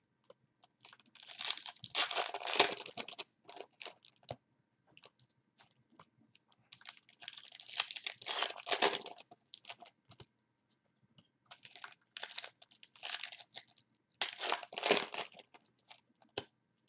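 Plastic trading card pack wrappers crinkle and rustle up close in bursts as packs are torn open, with quiet pauses between handling sounds and no talking.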